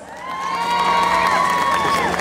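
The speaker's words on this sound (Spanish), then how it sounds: "Aplauso para los novios" Wedding guests at a celebration in Terrero, SLP cheer, whoop and clap for the newlyweds, a loud, close burst of excited voices and applause that swells and stays strong, with a high-pitched whistle or squeal riding over it.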